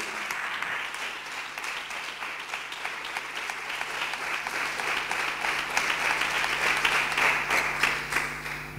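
A church congregation applauds steadily for nearly nine seconds, a dense, even wash of many hands clapping that swells slightly toward the end, with no talk over it.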